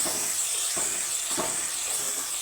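Tomato, green chilli and cashew masala paste fries in a pan as a loud, continuous hiss, with faint soft thumps of stirring every half second or so.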